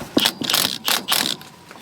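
A large impact gun rattles off a small bolt in a few loud, close bursts of hammering with brief gaps between them, no talk.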